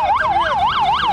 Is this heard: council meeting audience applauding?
no